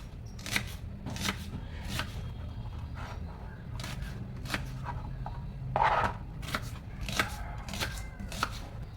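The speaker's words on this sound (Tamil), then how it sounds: "இந்த வெங்காயம் வந்து லாஸ்ட்டாக வந்து தாளிக்கும் போது நான் சேர்ப்பேன். சும்மா ரஃப்பாகவே நான் வந்து கட் பண்ணிப்பேன்." An onion being roughly chopped with a knife on a board in a home kitchen, a series of crisp, irregular chops close by, some single strikes and some quick pairs, with no talking.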